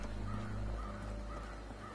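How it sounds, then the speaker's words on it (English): A crow-like cawing bird call from the Fallout game world, repeated harsh caws over a steady low droning background hum, moderately loud with no talking. "I always hear the same bird go like"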